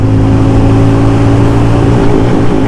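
Hero Mavrick 440 motorcycle engine revving hard and pulling up through the gears toward redline, a loud, steady close-up drone with strong harmonic whine and no talk.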